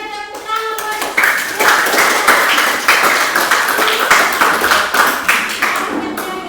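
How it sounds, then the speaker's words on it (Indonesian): A class of students claps hands together in a classroom, brisk and fairly loud, with rhythmic bursts of clapping and a voice speaking at the start. "Sekali lagi semuanya tepuk tangan buat"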